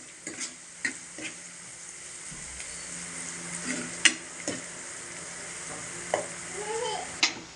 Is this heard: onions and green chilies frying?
yes